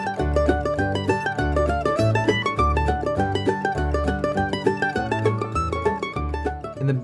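Solo mandolin plays the A section of the fiddle tune Fisher's Hornpipe high up the neck in an upper octave, with quick, even picked notes in a steady hornpipe rhythm, close and clear.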